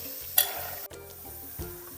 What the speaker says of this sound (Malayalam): ചെറുപയർ ഞാൻ ചട്ടിയിലേക്ക് ഇട്ട് കൊടുത്തിട്ടുണ്ട്